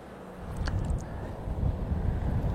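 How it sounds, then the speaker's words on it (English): Strong outdoor wind buffets the microphone in a steady low roar with gusting surges, continuous and fairly loud throughout, with no talking. "I'll tell you, this wind is crazy today."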